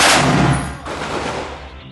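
Gunfire from ground troops in Rafah, Gaza: a loud, dense burst of shots at the start, then rough echoing crackle that fades over about two seconds, with no voices.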